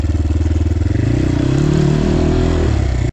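Kovi 250 PRO motorcycle with a 250 cc engine, Military trim, on a test ride: a loud, close single-cylinder engine thumps rhythmically and rises in pitch as it revs up, then cuts off abruptly.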